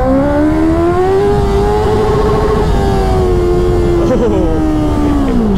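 A sport motorcycle from a 650 cc Ninja versus CBR 650R comparison is revved hard in first gear up to its 10,000 RPM limiter, giving a loud, close, sustained rising engine whine that levels off and falls back near the end.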